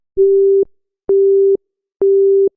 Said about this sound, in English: I picked up my phone and called Leo. It rang once.